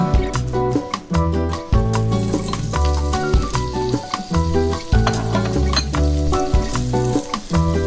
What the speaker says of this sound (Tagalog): we're going to saute pork in 2 tablespoons of olive oil until brown